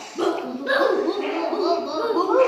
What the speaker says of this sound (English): now we hear the dog sound